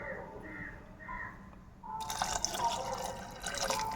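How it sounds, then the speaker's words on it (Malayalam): Plain tap water pouring into a pressure cooker pot of raw rice, a faint gurgling fill that starts partway through after a quieter stretch, close and unbroken. "പച്ചവെള്ളം തന്നെയാണ് ഒഴിക്കുന്നത്."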